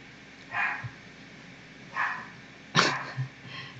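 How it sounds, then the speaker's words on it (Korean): A pet dog barks indoors in a home, four separate barks spread out at moderate distance over a steady low room hum, with the third bark the loudest. "저희 강아지가 저렇게 짖네요."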